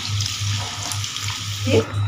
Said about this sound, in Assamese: ইয়াত অকণমান পানী দি ল'লোঁ এতিয়া